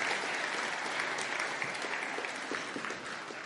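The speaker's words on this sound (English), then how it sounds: "Give them a round of applause." Steady applause from a sizable crowd, dense and continuous for the whole stretch, with a few louder claps standing out near the end.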